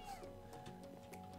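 A house cat gives a drawn-out, rising and falling meow, quiet and close, with a low hum underneath and no talk during the call.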